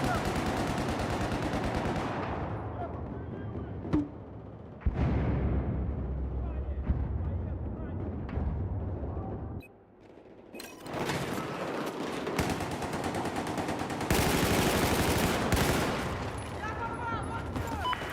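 Rapid bursts of automatic gunfire and booming explosions from Battlefield 4 on PS5 Pro fill a busy battlefield, loud and nearly continuous with a brief lull midway, while a player's voice talks over the din.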